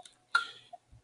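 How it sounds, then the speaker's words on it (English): A metronome set to 80 beats a minute gives one crisp, sharp tick, fairly close and isolated in an otherwise quiet room, with only faint small clicks after it. "I'm going to put my metronome on, 80 beats a minute"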